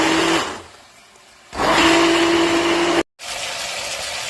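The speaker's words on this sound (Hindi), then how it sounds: "इन सब चीज़ों को हमने ब्लेंडर की मदद से बहुत अच्छा सा ब्लेंड कर देना और पेस्ट तैयार कर देना।" An electric blender blending cream and spices into a paste for white chicken karahi, heard as loud whirring motor bursts with a steady tonal hum, stopping briefly between runs and restarting.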